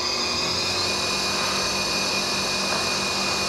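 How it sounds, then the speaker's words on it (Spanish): Electric motor driven by a Siemens frequency inverter (type 6SE6420-2UC17-5AA1) running at full speed, a steady, loud whirring hum with a high whine, constant and unbroken with no voices. "empezamos a subir la frecuencia. Y también está girando el motor"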